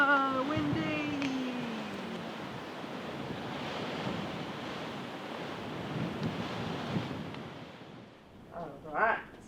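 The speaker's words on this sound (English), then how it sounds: "Whoa, windy." Strong, gusty wind buffets the microphone in an open, exposed spot while off-roading in Morocco, a steady broadband roar that swells and eases throughout, with a person's voice breaking through briefly near the end.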